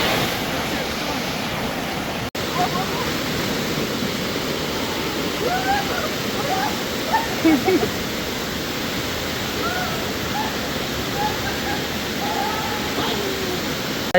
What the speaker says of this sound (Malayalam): അവിടെ കണ്ട മലൻ്റെ സൈഡിൽ കൂടി വെള്ളം വരുന്നത്